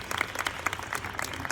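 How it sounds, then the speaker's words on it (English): Brief burst of audience applause at an entrepreneur gathering in Bangkok, a short patter of separate, fairly close hand claps lasting under two seconds. "Let's give Arm a hand"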